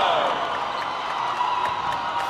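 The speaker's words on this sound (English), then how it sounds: "And an excited Wolverine crowd here on their feet" A basketball crowd at a boys' prep playoff game cheers on its feet after a win, a loud, sustained roar of voices and whoops filling the gym without letup.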